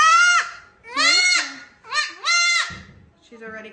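A three-day-old baby goat bleats up close, giving four loud wavering cries in quick succession followed by a fainter fifth call, with brief pauses between them.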